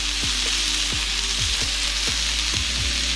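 Lamb loin chops fry on a Blackstone flat-top griddle with a steady, close broadband sizzle, punctuated by repeated light taps and scrapes from long tongs, with no voices.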